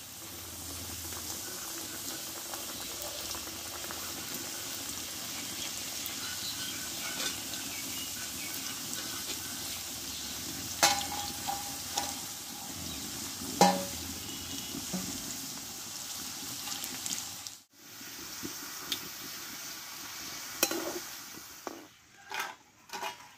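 Batches of potato chips bubble in hot oil, a continuous watery hiss close by, punctuated by occasional utensil clinks and brief scraping as pieces are turned and lifted.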